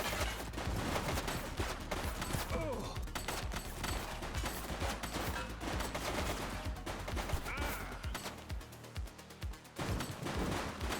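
Loud, continuous video game gunfire in The Precinct as a fleeing suspect in a red jacket opens fire on police, dense rapid shots filling the scene before easing near the end.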